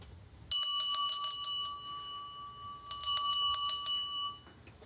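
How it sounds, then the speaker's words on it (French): A retreat house bell rings out to end a period of silent personal prayer: two bright bursts of quick repeated strikes, each leaving a clear ringing tone that decays, heard alone against quiet surroundings. "Le retentissement de la cloche vient rompre le silence pour indiquer aux retraitants la fin du temps de prière personnelle"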